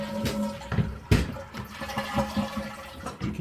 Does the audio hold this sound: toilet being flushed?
yes